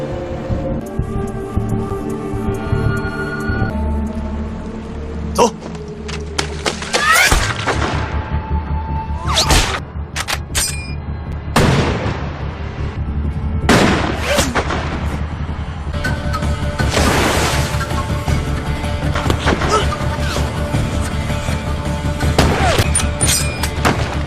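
Heavy booming shots and blasts ring out repeatedly over a rumbling background, loud and close, with sharp cracks scattered through a chaotic firefight.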